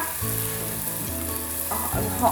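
Tomato and spice masala for Bengali aloo dum sizzles steadily while being sautéed in a pan, with close frying crackle under a speaking voice.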